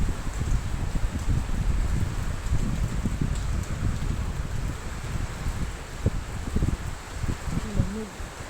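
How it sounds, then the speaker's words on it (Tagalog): Strong typhoon wind gusts in a continuous broadband roar with buffeting rumble against the microphone, steady and loud throughout, with faint scattered background voices. "Sobrang lakas ng hangin."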